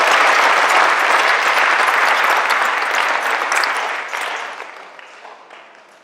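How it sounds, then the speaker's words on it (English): Sustained applause from a banquet-hall audience at a wrestling awards ceremony, loud and dense, then tapering off gradually toward the end. "Let's give them another round of applause."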